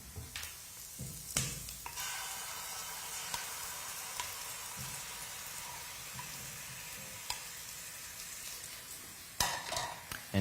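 Honey poured into a hot pan of cooked carrots, giving a steady, close frying sizzle with a few sharp clatters of a utensil against the pan.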